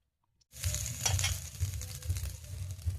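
Vegetables for shukto, including potato, sweet potato and green banana, sizzle steadily in a pan while being stirred, with soft scraping strokes and a low rhythmic bubbling hiss, close and continuous after a brief silence.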